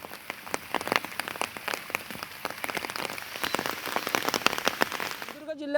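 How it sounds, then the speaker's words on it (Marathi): Steady, heavy rain pours down across Sindhudurg district, a dense close hiss of drops striking surfaces with scattered louder splatters, continuous and unbroken, without voices. "सकाळपासूनच पावसाची संततधार पाहायला मिळते आहे"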